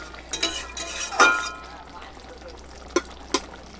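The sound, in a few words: stirring and mixing a curry in a pan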